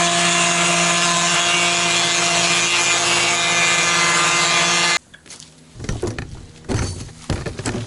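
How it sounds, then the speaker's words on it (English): A router fitted with a spiral upcut bit roughs out a recess in wood for a shop door flange, screaming loud and steady for about five seconds before cutting off abruptly, followed by scattered rubbing and handling noises. "I got the right distance on this spiral upcut bit, and I'm just going to roughly cut this out"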